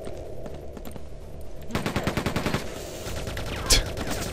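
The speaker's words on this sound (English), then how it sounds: "I like the machine gun, though." Rapid bursts of machine gun fire in the Quake 2 video game, a dense rattling volley of shots in the middle followed by a sharper single blast, over a steady game background hum.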